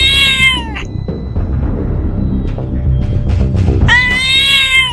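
A cat lets out two loud, drawn-out meows, one at the start and one at the end, with softer rustling and low sounds between them.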